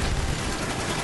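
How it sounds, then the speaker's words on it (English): Minigun death machine firing in Call of Duty Black Ops, a dense, loud, unbroken burst of rapid gunfire filling the short moment alone. "Oh, yeah, the minigun. Boy, this death machine."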